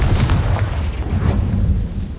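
A Confringo spell explosion from the video game Hogwarts Legacy booms loud and deep, a heavy rumbling blast that fills the clip with low, sustained crackling energy.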